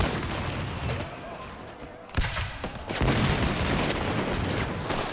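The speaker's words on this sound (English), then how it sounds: "the enemy general got shot now and we're firing at them point blank" Dense musket volleys fired at point blank by line infantry in Empire: Total War, a continuous crackling roar of massed gunfire with a short lull, partly under a voice.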